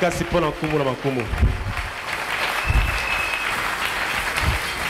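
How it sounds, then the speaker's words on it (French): A church congregation applauds in a sustained, dense wash of clapping that carries on steadily, with a voice speaking briefly over the start before the clapping continues alone. "Acclamons très fort pour le roi de roi."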